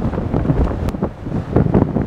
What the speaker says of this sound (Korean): 이게 또 오늘 바람이 불어서